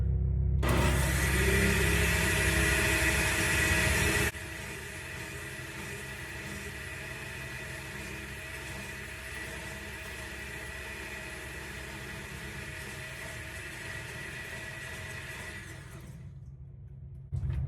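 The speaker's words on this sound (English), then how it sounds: "And with the blender, in no time it came together" A kitchen blender purees thawed 3% cellulose nanofibril gel, its motor roaring loudly for a few seconds, then dropping to a steady lower whir that runs on before cutting off.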